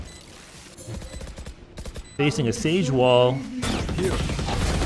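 Rapid wall bang gunfire from Valorant, including shots fired through a Sage wall, crackles as bursts of impacts over the second half while a caster commentates throughout, the shots partly under the voice.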